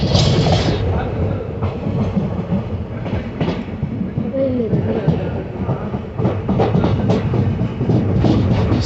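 A train moves through a railway station in Mangaluru, a loud, close rumble with rhythmic clickety-clack of wheels on rail joints that runs continuously, while people talk faintly in the background.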